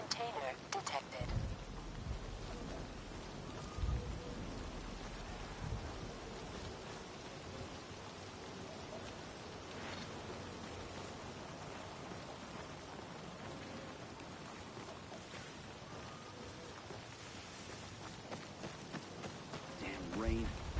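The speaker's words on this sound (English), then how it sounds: "Hate to be on the field when it rains" Steady rainfall in the video game Dying Light 2, a continuous broadband hiss of drops pattering on surfaces that runs evenly throughout, with a few scattered louder taps and a faint game voice now and then.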